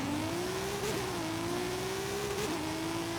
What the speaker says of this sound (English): The smoothest acceleration off the line for a rear-wheel drive car that you've ever seen with 800 and something horsepower